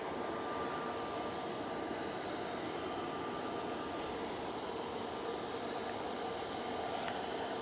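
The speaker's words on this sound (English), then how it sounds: "Dreamliner is off to Burgos" A Boeing 787-8 Dreamliner taking off gives a continuous, dense broadband jet roar, loud and sustained throughout with a faint tonal whine, no talking.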